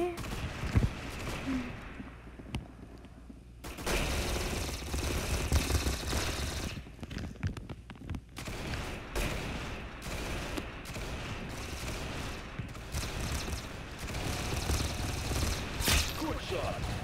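Rapid gunfire from the Roblox shooter game Arsenal, bursts of game weapon shots over a dense, busy game soundtrack with a player talking throughout.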